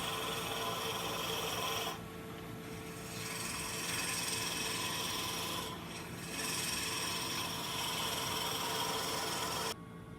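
Wood turning on a lathe, a steady broadband rasping and rubbing of a tool against spinning wood that runs continuously at close range, with brief dips in intensity as the cut eases and resumes.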